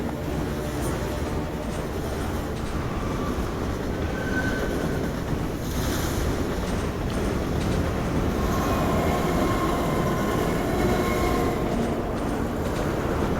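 A train in the video game Half-Life 2 passes with a continuous loud rumble and clatter that stays constant and near.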